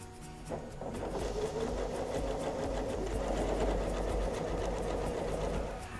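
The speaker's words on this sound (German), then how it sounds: "jetzt nähen wir noch das Oberteil an" A sewing machine runs steadily, stitching the top panel onto a fabric yoga bag, producing a fast, even mechanical whirr and needle rattle, close and alone for several seconds.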